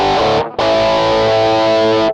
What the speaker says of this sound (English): That's a great Rockman distortion sound